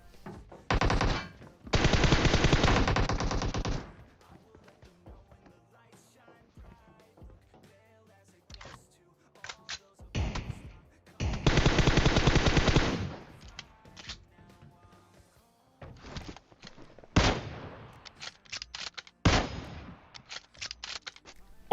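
Automatic gunfire from an auto rifle in the mobile game PUBG Mobile: several loud sustained bursts with short single shots between them, separated by quiet gaps.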